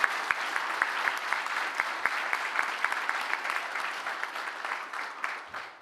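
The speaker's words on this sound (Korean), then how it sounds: "진성균 회장님께 감사한 마음을 담아서 큰 박수 부탁드리겠습니다" A large crowd at a public town-hall forum in Gangwon claps in a steady, full round of applause, close and sustained for several seconds with no one talking.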